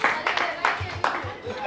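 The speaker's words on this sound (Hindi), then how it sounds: "जोरदार ताली चाहिए फॉर मिसेस आशीष" Brief, evenly spaced claps ring out for a woman at a 25th wedding anniversary party, a short burst of applause under a host's voice.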